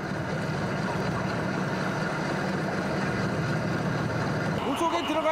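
A diving support boat's engine runs steadily at sea while a helmet diver works underwater below, giving a continuous close rumble and hiss. A brief splashy burst comes near the end.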